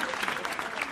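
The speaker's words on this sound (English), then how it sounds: "I hear them applauding." An audience applauds in a brief, dense burst of steady clapping, moderately loud and continuous, with a hint of voices underneath.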